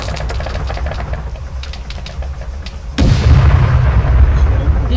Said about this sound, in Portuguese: tá atirando em mim aqui, ó.